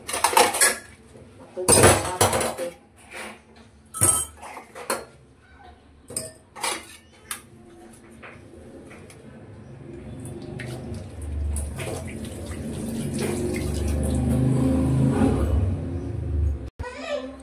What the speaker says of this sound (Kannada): ಇವಾಗೆಲ್ಲ ಆಯ್ತು ಪಾತ್ರೆ ವಾಶ್ ಮಾಡಿ ಎಲ್ಲ